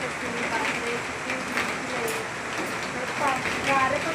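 Heavy rain pours down at the Shankar Maharaj temple grounds, a dense steady hiss of drops on surfaces, with a voice speaking over the downpour.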